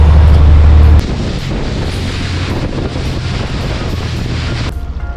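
Ocean waves and strong wind heard from a boat crossing to Santa Cruz Island in the Channel Islands, a loud continuous rushing roar with heavy wind buffeting on the microphone and a low hull thump at the start.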